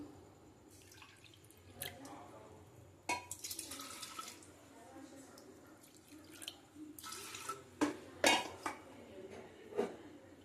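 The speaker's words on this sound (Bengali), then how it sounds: "জল দেবো পরিমাণ মতন।" Water runs into a cooking pot at a kitchen sink for a pumpkin and potato chana dal, with splashing and trickling broken up by clanks of metal utensils and pots.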